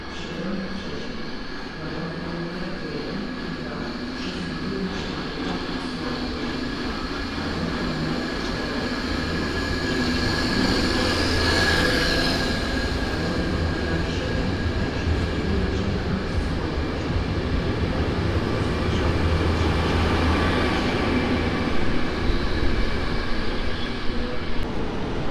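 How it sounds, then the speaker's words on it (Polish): An Intercity train departs Kraków Główny station, rumbling and rolling steadily, its low mechanical drone building slightly as it gets underway, with a faint high whine above. "Rusza pociąg Bieszczady"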